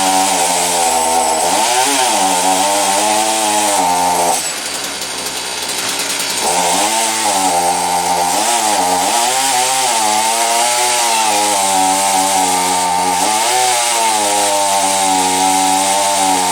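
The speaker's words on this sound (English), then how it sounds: "With a petrol chainsaw." A petrol chainsaw roars loudly, its pitch dipping and rising as it bites into wood, with a brief idle lull partway through.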